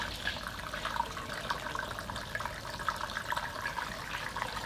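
Water running down a drain through a 1.25 inch pipe to a T, filling two barrels for a plasma table water tray; a steady, continuous rushing and trickling flow with no voices.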